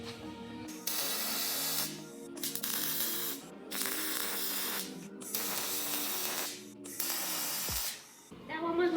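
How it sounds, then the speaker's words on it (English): A MIG welder tack welds a fuel cell mount in a run of five or six loud buzzing, crackling bursts, each lasting one to two seconds, separated by short silent pauses. "let's get tack welding"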